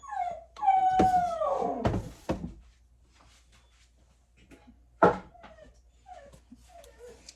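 A dog whimpers and whines in a few thin, high cries, with short pauses and quieter whines between them.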